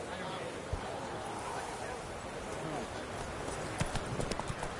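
Horse hooves gallop quickly in The Witcher video game during a race, a rapid drumming rhythm set under a dense wash of ambient game sound and music, moderately close.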